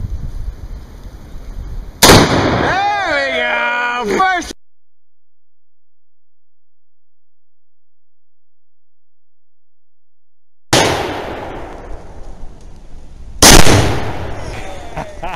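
Bushmaster XM15 rifle shots striking an explosive target outdoors in woods, a loud sharp blast with ringing tail, a gap of silence, then a rumbling burst and another sharp crack.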